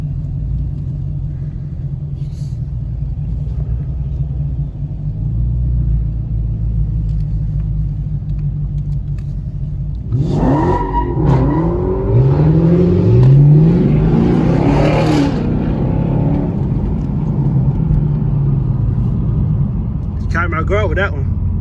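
A red Dodge Hellcat rumbles at idle at a car wash meet, then a louder, harsher burst of engine roar swells for about five seconds before settling back to a steady low rumble, with people talking throughout.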